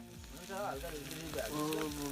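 Turmeric, cumin and coriander fry in a pot while being stirred, giving a continuous soft sizzle with a voice talking over it.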